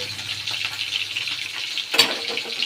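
Pieces of shol fish fry in a pan with a steady soft sizzle and hiss, broken by a brief louder crackle and clatter near the end.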